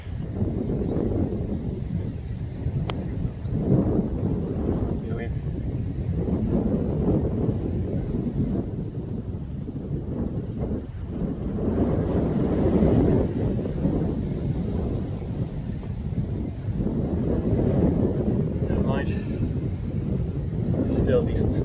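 Strong wind buffets the microphone on a hilly parkland golf course, a constant low rumbling roar that swells and eases throughout, with a voice talking now and then beneath it.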